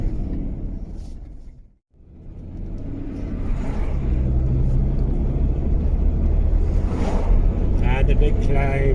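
Car engine labouring up a very steep hill in third gear on a Highland road near Aviemore, a loud steady drone and rumble that dips briefly near the start before returning strongly with faint talk over it.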